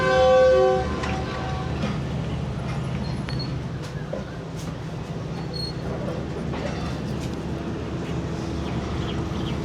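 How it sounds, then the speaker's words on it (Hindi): Fareed Express train pulling out of Mandi Ahmadabad station in rural Punjab, a brief horn blast at the start giving way to a steady rumble and rolling clatter of wagons, close and continuous. "ट्रेन चलने वाली है"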